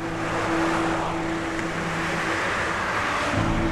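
Steady road traffic near Stonehenge forms a continuous wash of rushing vehicle noise and a low engine hum, heard from some distance with no clear individual passes.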